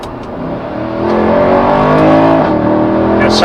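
Mercedes SL63 AMG R230 with a 6.2-litre naturally aspirated V8 revs hard on a downshift in manual sport mode, a loud, close, rising engine roar that holds steady with no talking.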